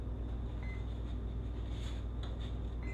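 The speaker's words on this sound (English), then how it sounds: "Don't mind the beeping" Faint, short electronic beeps from the ESC of an RC plane (Centerfire Afterburner) with the ESC unplugged from the receiver, sounding a few times over a steady low hum.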